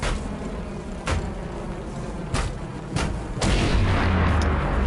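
A fighter jet in the video game Trailmakers breaks the sound barrier: a loud jet roar fills the air, broken by several sharp booming cracks, with the rush of noise swelling louder toward the end.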